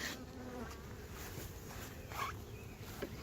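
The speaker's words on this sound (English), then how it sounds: "there's this little bee right there" A honeybee buzzes close by near a beehive during a walk-away split, a soft, steady drone over a quiet outdoor background with no voices.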